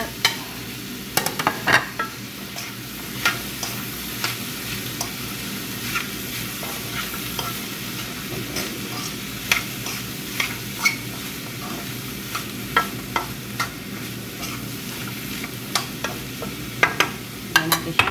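Hotdog, potatoes and carrots frying in a pan are stirred. A steady, close sizzle runs throughout, broken by frequent clicks and scrapes of the utensil against the pan, with no talking.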